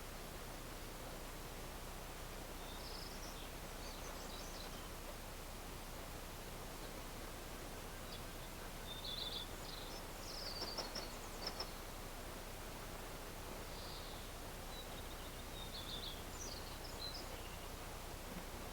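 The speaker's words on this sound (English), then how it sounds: "I hear the rushing creek" Steady broadband rush of flowing water from Bear Creek fills the scene, with faint bird chirps scattered in the distance.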